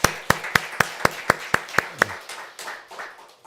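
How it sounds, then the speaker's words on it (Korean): A church congregation at a Sunday morning service claps in steady unison, about nine sharp, evenly spaced claps, followed by a softer, fading patter. "우리 박수로 축복합시다."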